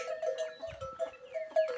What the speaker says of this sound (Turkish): Bakın inekler.